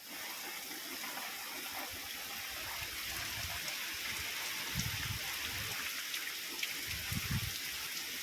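Flood water rushes steadily during heavy monsoon rain in the Dhari and Khambha Gir area of Amreli, a continuous faint hiss and wash of flowing water and rain with occasional low rumbles, no talk heard.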